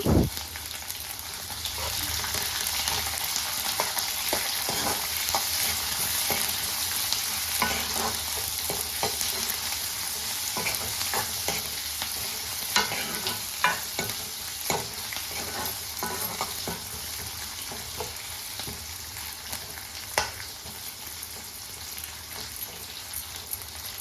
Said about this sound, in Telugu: ముందుగా కట్ చేసి పెట్టుకున్న ఉల్లిపాయలను యాడ్ చేసుకొని బాగా ఫ్రై చేసుకోవాలి.